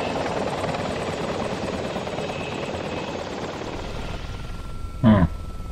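Arma game helicopter during a JSOC squad operation, its continuous rotor roar filling most of the stretch before easing off, with one short loud thump near the end.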